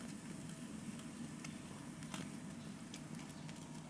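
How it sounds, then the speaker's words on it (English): A ribeye steak sizzles steadily over a 1500° infrared grill, a dense close frying hiss with scattered crackles and pops as the meat flares up, no voices over it. "Talking about the steak caught on fire."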